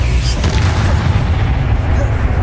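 Spell explosions from Confringo and Bombarda in the video game Hogwarts Legacy, a continuous heavy low rumble with booming bursts filling the whole stretch, loud and close.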